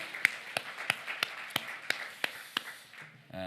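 A church congregation at a festival worship service claps in a slow, regular beat, about ten distinct claps spaced roughly a third of a second apart, fairly faint and ending after three seconds.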